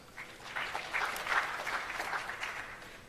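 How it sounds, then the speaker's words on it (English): An audience applauds at a launch event for 4IR centres of excellence, a steady wash of many hands clapping at moderate level from a crowd somewhat distant, holding for about three seconds. "Let's give you a round of applause."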